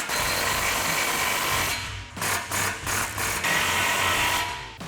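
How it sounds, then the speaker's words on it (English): An impact wrench with a 15 mm socket tightens aftermarket exhaust clamps on a 2015-2017 Mustang GT. A steady close whir is followed by several short bursts and then another long run. "grab your impact 15 millimeter socket and tighten these down"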